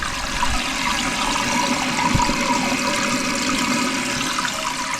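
Water runs steadily into a toilet tank because a leaking flapper is not sealing, giving a constant close rushing trickle that stays at an even level throughout with no pauses or voices.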